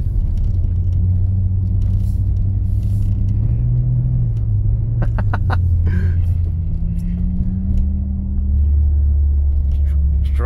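A BMW E36 drifting on a snowy street at night, its engine droning loudly and steadily throughout with rising and falling revs as it slides for traction, a low rumble dominating, with brief voices heard faintly.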